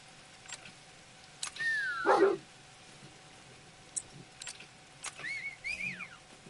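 A dog in a video game barks and yips in a few short bursts, with a louder whining bark cluster near the start and lighter yelps later, over quiet game ambience.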